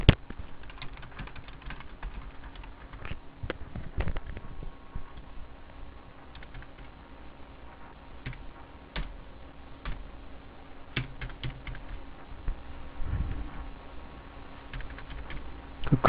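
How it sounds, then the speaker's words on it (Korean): Someone types an address on a computer keyboard, with irregular soft key clicks and a few sharper taps, close and steady throughout, with no talk. "주소는 그대로 타이핑하면 됩니다."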